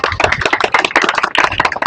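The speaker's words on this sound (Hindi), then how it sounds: "आप सभी जोरदार तालियां बजा दें" Loud, close clapping from an audience at a Durga Puja committee gathering, a brief burst of dense, rapid hand claps.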